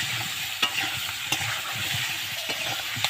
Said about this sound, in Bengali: আলুগুলো ভালো ভাজা হওয়ার সঙ্গে সঙ্গে আমি নুন আর হলুদটা পরিমাণ মতো দিয়ে দিলাম